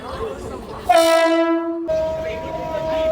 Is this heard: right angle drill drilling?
no